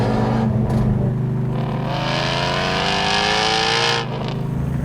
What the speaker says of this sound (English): Literally the most amazing new car sound.